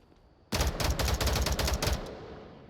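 Loud burst of rapid automatic gunfire in the VR shooter Onward, a dense string of shots lasting about a second and a half after a quiet lead-in, then a fading tail.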